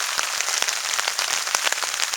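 Steady rain falls hard outdoors beside a hammock, a dense close patter of drops striking nearby surfaces with sharper individual ticks throughout and no voices.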